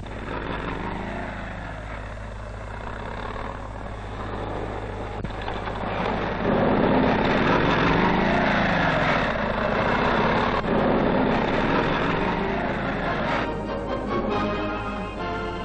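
Steady engine drone of military cadets' motorcycles riding cross-country, growing louder partway through and holding at a rough, continuous rumble with no voices.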